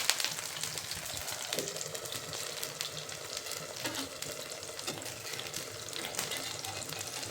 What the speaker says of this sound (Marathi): झाकण काढल्यानंतर 2-3 मिनिट तसंच आपल्याला बिन झाकणाचं भाजू द्यायचे